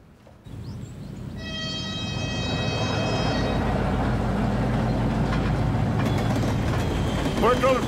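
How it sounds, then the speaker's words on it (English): A train rolls past nearby with a loud, steady rumble, a sustained horn-like tone early on, then rattling and squealing wheels. "Wait till the train passes."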